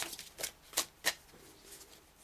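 Tarot cards are shuffled up close in a few quick riffling bursts, soft and papery, with quiet pauses between them and no voices.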